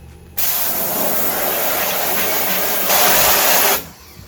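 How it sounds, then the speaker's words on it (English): Emulsion remover is sprayed onto a screen-printing screen in one close, continuous hiss lasting about three and a half seconds, swelling a little louder just before it cuts off. "you spray some more emulsion remover"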